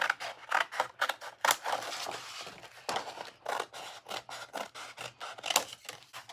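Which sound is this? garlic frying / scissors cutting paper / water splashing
scissors cutting paper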